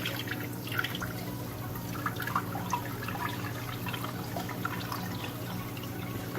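Water trickling and dripping steadily down an aquarium overflow box during a plumbing leak test of a 230-gallon tank, a continuous soft splashing flow with scattered drips, no talk.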